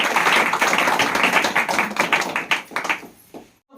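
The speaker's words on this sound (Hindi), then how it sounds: "ताली बजाए इस वचन के।" Church congregation clapping along during a Sunday prayer service, a dense run of many hands that stays strong for about three seconds, then thins into a few scattered claps before stopping.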